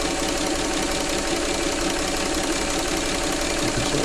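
A freshly serviced Singer 237 sewing machine runs at a steady, fast pace, with a continuous close mechanical whir and a rapid rhythmic clatter throughout.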